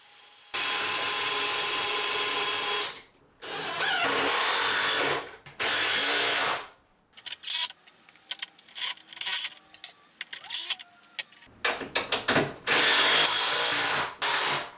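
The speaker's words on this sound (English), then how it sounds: "attached all of the caster wheels using my impact driver and a specific attachment to help secure the bolts" An impact driver drives bolts to fasten caster wheels onto a scrap-wood cart in a workshop, sounding in several long loud whirring bursts and then a run of shorter rattling bursts with brief pauses between them.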